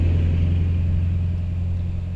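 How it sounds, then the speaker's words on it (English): Road traffic rumbles past near a campground by Glacier National Park, a loud steady low engine drone from a close vehicle with no voices. "A lot of traffic here"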